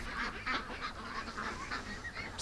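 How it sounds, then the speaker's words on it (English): Ducks honk and quack in rapid, repeated calls at moderate distance, forming an overlapping flock chorus that runs through the whole clip. "Come here, little duck."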